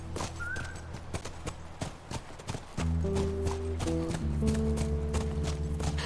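Steady clip-clop of a horse's hooves at a trot in a video game, rhythmic and fairly close, with game music swelling in partway through.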